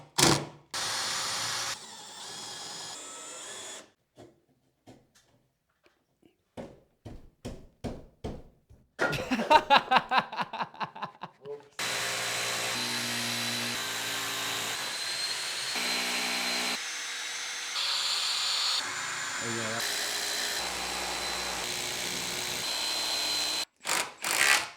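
Power tools whir and buzz in long, loud stretches while wooden noggin pieces are cut to fit between roof rafters, broken by brief quiet gaps and a run of rapid clicking ticks.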